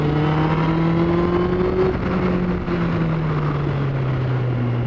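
A motorcycle pulls away at full throttle, its engine a loud, steady, close drone whose pitch climbs and then slowly sinks as it holds power for several seconds.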